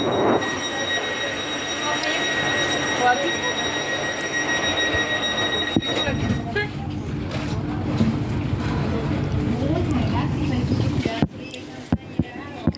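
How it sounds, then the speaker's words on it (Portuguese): Ambience at the Valparaíso–Limache train station in Chile: a steady mechanical hum with high electrical whines and clanks, with a person talking over it throughout. "Isso aqui é a estação de trem de Valparaíso e Vinha, Valparaíso Limache."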